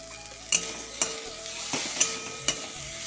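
Tomato stirred into chicken masala frying in a pan, a low steady sizzle broken by five sharp spatula knocks and scrapes at roughly half-second intervals.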